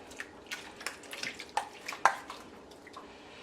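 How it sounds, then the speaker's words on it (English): Jerk marinade poured over two whole chickens cut into legs, thighs, breasts and wings: soft wet splashes and drips with a few sharper splats, fairly faint and close, with no talking. "all I'm going to do is pour this over it now"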